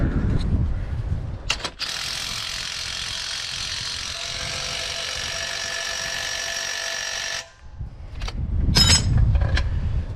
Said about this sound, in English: now what we'll do is tighten up this lower shock extension bolt here